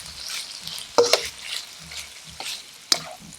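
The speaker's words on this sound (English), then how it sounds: "we're not losing one bit of the flavor here, sweating these onions down" Onions sweat and sizzle in a hot pan for a chicken cacciatore, a steady close crackle broken by a few sharp scrapes and clinks of a spoon stirring them around.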